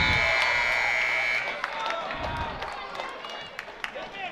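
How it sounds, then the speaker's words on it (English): A buzzer sounds as a steady held tone for about a second and a half at a girls' high school basketball game between the Bigfork Valkyries and Mission Lady Bulldogs, followed by crowd noise, sneaker squeaks and a commentator's voice. "And they blow the whistle right at the buzzer."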